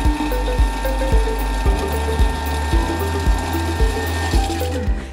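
A Thermomix blends baconnaise at speed 5, its motor producing a loud mechanical whir with a regular ratcheting knock repeating about twice a second, continuous and close, with no talking.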